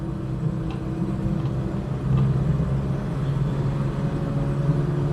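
A 1987-era Datsun 120Y drives on a public road, its engine giving a steady low rumble with continuous road noise, fairly close and even throughout, with no talking.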